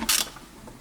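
Short ratchet clicks as a bolt is loosened on the fuel injector rail of a 1994–2002 Toyota Corolla, two brief bursts at the start and end with quiet between, close and fairly loud.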